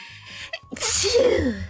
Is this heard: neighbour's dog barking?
no